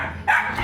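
A single short dog bark sounds nearby in a home, brief and fairly loud over faint background noise.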